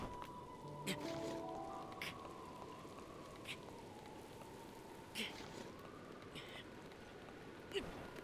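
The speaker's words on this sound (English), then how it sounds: "There comes the rain" Steady rainfall in Zelda: Breath of the Wild, a continuous soft hiss of rain with a few brief taps, held low under a sustained tone and a voice talking over it.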